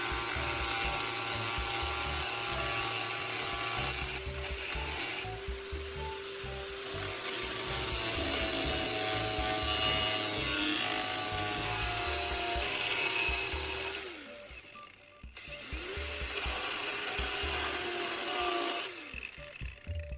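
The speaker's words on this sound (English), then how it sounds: "I'm carefully using an angle grinder to cut out the marked section from the original taillight housing" An angle grinder cutting into a plastic car taillight housing, a loud continuous whine and rasping grind up close, briefly dropping off and spinning back up twice near the end.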